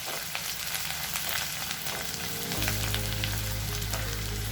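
Ginger and garlic, with dried red chillies, sizzle and fry in a pan for a ridge gourd and prawn curry, a steady close crackle that grows louder and denser partway through, with no talking.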